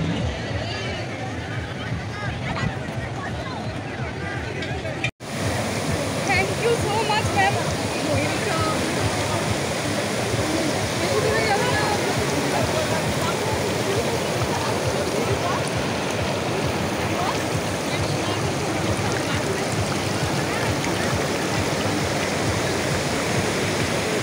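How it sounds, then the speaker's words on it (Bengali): Flowing water current at a riverside picnic spot on a college excursion, a loud steady rushing wash heard close, broken by a short dropout near the start, with faint voices mixed in. "দেখো জলের কিরম স্রোত"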